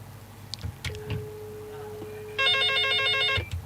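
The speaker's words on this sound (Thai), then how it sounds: "เดี๋ยวมีโทรศัพท์เข้ามานะครับผมก็ขอเช็คนิดหนึ่ง" A telephone rings with an incoming call during a live broadcast: a steady tone is followed by about a second of loud electronic warbling ring, with a few faint clicks around it.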